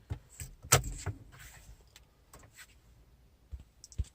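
An ignition key clicks and jingles in a Hyundai HB20, a few sharp close clicks and a faint rattle early on, then quiet before more clicks at the end.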